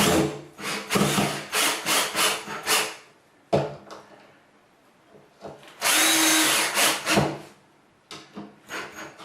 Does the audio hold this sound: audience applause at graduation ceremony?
no